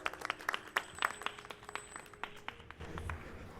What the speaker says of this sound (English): a long ovation for RobertFrank, the Dead Edgar